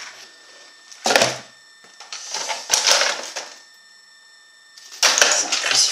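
Hands rummaging through a toolbox for screwdrivers, bursts of metallic clattering and rattling of tools knocking together in several irregular bouts, close and fairly loud, with quieter shuffling between.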